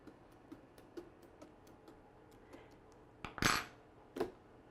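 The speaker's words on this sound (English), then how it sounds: "take a fork and just prick through the skin a few times" A fork pricks through the skin of halved pumpkins lying on a cookie sheet, making faint, regular light taps about every quarter second, followed by a couple of louder scraping clacks against the metal sheet.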